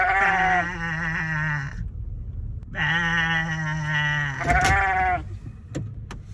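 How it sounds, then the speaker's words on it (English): Two long, wavering bleats from a lamb in a cage, close and loud, separated by a short pause, with faint traffic rumble at a traffic stop and a brief clatter near the end. "it's a lamb. It's a sheep."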